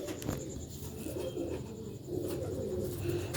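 An old-breed Sialkot rooftop pigeon coos close by, repeating soft low rolling coos in a steady rhythm against faint outdoor background noise.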